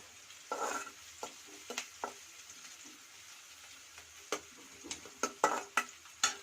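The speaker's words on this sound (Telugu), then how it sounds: "సో సో చక్కగా పింక్ కలర్ వచ్చేంత ఆనియన్స్ని ఫ్రై చేసుకుందాం." Onions fry in a pan for a spicy jeera chutney until they turn pink, with a soft sizzle beneath scattered sharp spatula taps and stirring scrapes, close by and growing busier toward the end.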